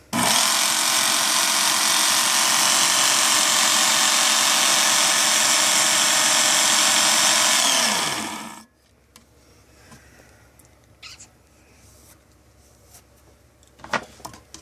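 A Work Sharp Ken Onion belt knife sharpener runs with a loud, steady high-pitched grinding whine for about eight seconds, then winds down and stops, leaving faint clicks and handling noises.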